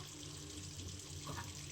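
Water runs steadily from a sink tap in the Roblox video game, a faint, constant rushing stream with no voices.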